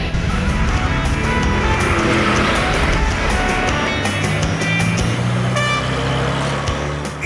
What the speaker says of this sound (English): the old classic cars that still drive around on the streets there every day